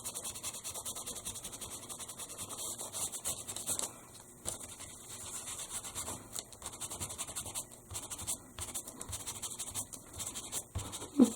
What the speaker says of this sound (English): The more you rub it with the baby wipe, the more of it comes off.